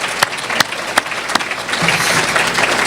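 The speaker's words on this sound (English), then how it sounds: "Let's have a round of applause for our warriors up here that are really making a difference." Applause from a summit audience for a panel, a few sharp early claps building into steady, full clapping from a mid-sized crowd, fairly close and alone without talk.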